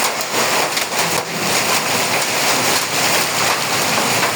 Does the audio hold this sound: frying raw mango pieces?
no